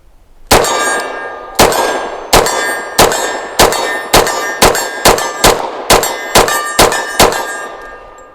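A Taurus TH45 .45 pistol fires a full magazine of fourteen rounds, loud sharp ringing reports in a brisk string, some paired closely, close to the shooter with no talking.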